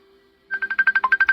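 A mobile phone ringtone sounds during a live church sermon, a fast run of about ten bright electronic pulses that starts suddenly after a faint steady tone.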